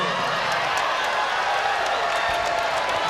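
Crowd noise at a women's college volleyball match between the Rainbow Wahine and St. John's rises as a steady, dense roar of cheering and applause, loud and continuous throughout.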